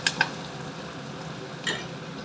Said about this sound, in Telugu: ఇప్పుడు ఉల్లిపాయలు, పచ్చిమిర్చి వేసేసుకున్నాను. ఒకసారి కలుపుకున్నామండి.